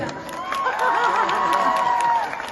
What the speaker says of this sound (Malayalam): നല്ല കൈയടി കൊടുത്തേ